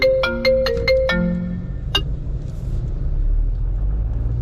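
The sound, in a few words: phone ringtone of incoming call in car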